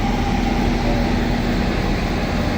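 A Northern train idles at Manchester Oxford Road station, giving off a steady, loud engine drone and hum with no pauses or speech.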